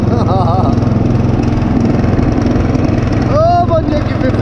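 A small second-hand lawn tractor engine chugs steadily while being driven at top gear on a cold winter day, close and loud, with a voice talking over it and a brief whistle-like sound partway through.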